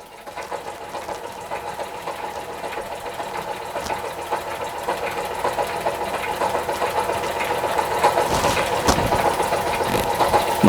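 A Doll & Co Number 56 1/2 model steam engine runs steadily with a fast, even mechanical chatter and hiss, close and fairly loud, growing slightly louder toward the end with no talk.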